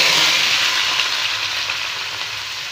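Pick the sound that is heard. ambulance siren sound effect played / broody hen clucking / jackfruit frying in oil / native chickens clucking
jackfruit frying in oil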